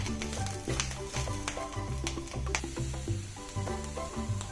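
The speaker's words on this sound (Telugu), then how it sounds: "పచ్చి వాసన పోయే వరకు వేయించుకోండి" Ponnaganti leaves frying in a pan, giving a steady crackling sizzle with small popping bursts, heard close up under background music.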